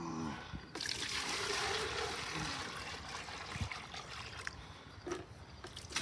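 Liquid feeder mix is poured into buckets, a faint trickling and splashing stream that runs steadily and then tapers into a few small drips and splatters.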